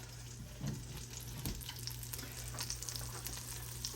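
Cubed pork butt sizzles in oil in a pan for a Kentucky burgoo stew, a steady quiet crackle and fry with a few clatters and a low hum underneath.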